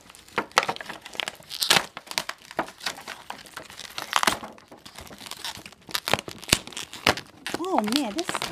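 Crinkling plastic and tearing tape while a Marvel Rising Squirrel Girl doll's stuck, taped packaging is pried open, loud close rustles and rips in uneven bursts, with a person speaking near the end.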